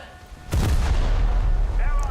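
Main guns of the French destroyer Mogador fire in a naval battle game: one sharp, heavy boom followed by a sustained low rumble, with faint game sounds underneath.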